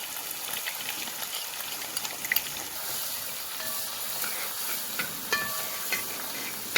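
Crushed garlic fries in coconut oil alongside ginger and fenugreek in an uruli. A steady, moderately loud hissing sizzle carries on throughout, with occasional stirring clicks and small spits of steam.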